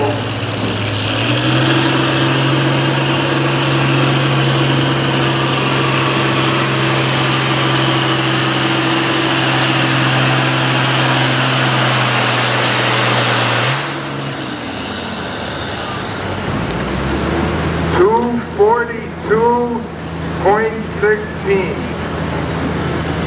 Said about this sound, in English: Don Mammo's tractor there, the International 1066